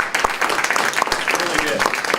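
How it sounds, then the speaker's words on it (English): A room of people at a public meeting on a splash park plan claps for the presenters, a short burst of dense applause with murmured voices mixed in. "Give these guys a round of applause because they did an outstanding job."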